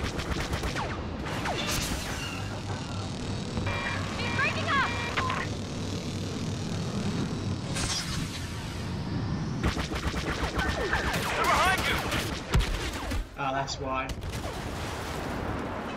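Rapid bursts of blaster and gunfire aimed at the player in Star Wars Battlefront Walker Assault, crackling volleys layered with game effects and occasional distant booms, with brief voice snippets in between.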